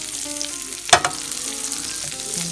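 Butter sizzles in a hot pan for a teriyaki stir-fry, a steady crackling fry with a brief sharp pop and clatter near the start.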